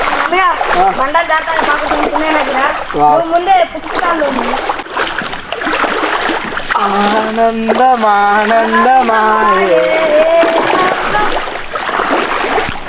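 Water splashes continuously as something moves through a cold forest stream, while people talk and sing loudly over it.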